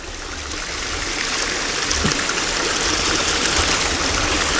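Water pours in a smooth laminar sheet over a weir into a hydroelectric dam intake after rain, making a steady, even rushing wash that builds slightly and then holds constant, with no speech.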